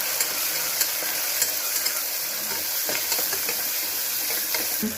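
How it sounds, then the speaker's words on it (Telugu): Chopped tomatoes fry with onions in a pan for a tamarind gourd curry, giving a steady, dense sizzle with faint clicks of stirring, close and constant, with no talk. "ఇప్పుడు టమాటాలు వేస్తున్నాను బాగా వేయించుకోవాలి"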